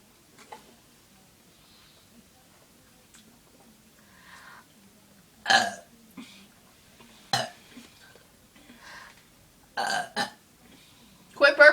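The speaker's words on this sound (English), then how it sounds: "whenever I'm burping" Loud burps in a burping contest burst out at irregular intervals, several short ones near the middle and end, separated by quiet stretches with faint background.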